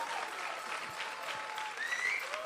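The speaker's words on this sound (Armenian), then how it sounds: "Դե եկեք բարձր ծափարեք" Audience at an Armenian awards ceremony applauds steadily, a dense continuous wash of clapping heard from a moderate distance, with a faint musical tone under it.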